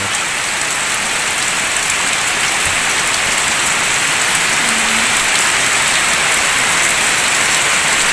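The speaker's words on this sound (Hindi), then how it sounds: "बहुत ही तेज़ी से बारिश हो रही है" Heavy rain pouring steadily over a rural village of mud houses, a dense continuous hiss that stays loud and even throughout, with no voices.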